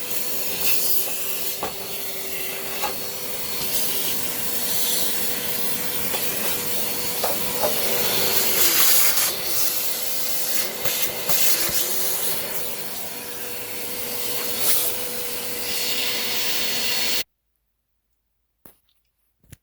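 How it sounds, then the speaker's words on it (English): A vacuum cleaner sucks lint out of a Kenmore dryer vent, a close steady hissing roar with rubbing and scraping changes in pitch, running alone for most of the clip before cutting off abruptly near the end. "Vacuumed it all out"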